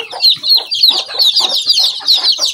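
Native chickens cluck repeatedly in quick, uneven bursts, close and fairly loud, with overlapping calls from several birds.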